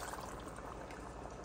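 Roughly a cup of starchy pasta water pours steadily into a pan with rigatoni sauce, a faint, continuous liquid splash under a soft background hiss, with no voices.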